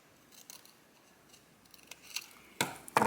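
Scissors snip through paper while cutting out a pop-up card flower petal, quiet faint rustles building to a few sharp, close crisp cuts at the end.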